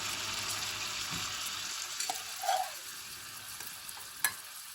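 Browned meat going into onions in a pot for Turkish bean stew sizzles and fries steadily, with a few stirring clinks and scrapes rising above the constant hiss.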